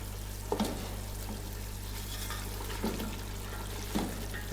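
Chicken biryani masala frying in oil with the water cooked off, a soft continuous sizzle with occasional spoon scrapes as it is stirred, under a steady low hum.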